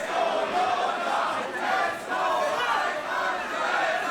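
Wrestling crowd at a GWF Global Warning 2023 show roaring and chanting for Aytac and Yota Tsuji, a steady loud wall of cheering with rhythmic swells and no clear talk.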